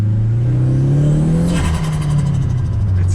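A car engine revs loudly and climbs in pitch, then eases and steadies into a continuous close, throaty drone.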